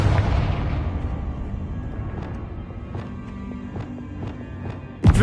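A Confringo blasting spell in Hogwarts Legacy bursts with a loud boom at the start, and its rumble fades over a few seconds. Light thuds and clicks follow, then another sharp blast hits at the very end.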